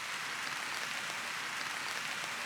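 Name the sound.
rain falling on tarp while wild camping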